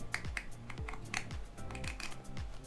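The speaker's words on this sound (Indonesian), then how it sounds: "Ada 8 tingkatan dan dia setiap dipanjangin dia bunyi." Plastic headband of a JETE X P1 Pro Gamer Edition gaming headset being extended through its eight adjustment steps, giving a quick series of sharp, close clicks in an irregular rhythm, alone and fairly quiet.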